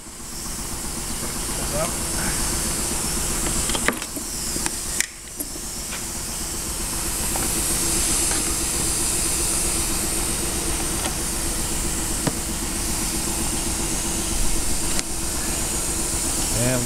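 Weber screw feeder and screwdriver system running steadily with a continuous hiss and mechanical hum, a few brief clicks and thumps, and a person speaking briefly over it.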